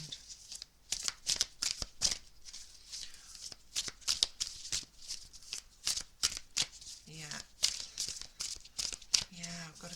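Tarot cards are shuffled in quick, crisp, irregular bursts of riffling and slapping, close up and fairly quiet, with brief soft voice sounds in between.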